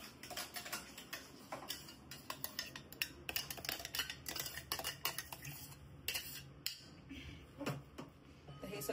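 Ground chicken and green chilli mixture stirred in a bowl, with steady close clicks and scrapes of a utensil against the bowl in a quick irregular rhythm.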